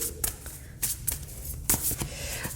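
Tarot cards riffle and slap in short bursts, a few quick shuffles close up with brief pauses between them.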